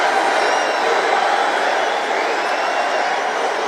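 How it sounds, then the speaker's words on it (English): Big crowd at a New York political rally, a steady roar of cheering and whooping that holds at a constant loud level throughout. "This is a big crowd."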